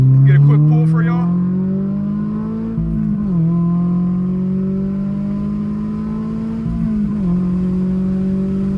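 A 2023 Toyota GR86 Premium accelerates hard, its engine note climbing steadily through two gear shifts with brief dips, loud and close from inside the cabin.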